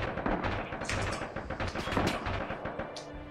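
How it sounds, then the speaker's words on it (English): Rapid bursts of gunfire in the video game Red Orchestra 2: Rising Storm crackle steadily throughout, dense and continuous like automatic weapons firing close by. "Someone firing at me again."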